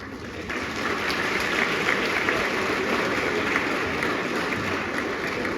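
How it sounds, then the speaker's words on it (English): An audience at a university matriculation convocation claps steadily throughout, a broad, even wash of applause heard from a moderate distance with no talking over it. "Let's applaud."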